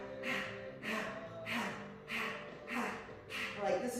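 Rhythmic panting breaths through an open mouth with the tongue out, done as a Kundalini yoga breathing exercise, about six regular breath cycles in four seconds, close and steady.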